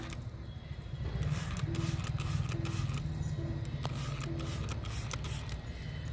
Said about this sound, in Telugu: ఆకు మొత్తం స్ప్రే చేయాలండి.